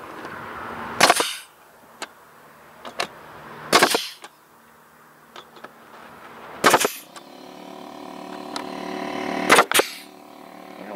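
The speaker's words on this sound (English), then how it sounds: "we're just going to take our air nailer here, fire some nails into it" Air nailer driving nails into wood for an outdoor privy, with four sharp loud pops spaced a few seconds apart over a faint steady background hum.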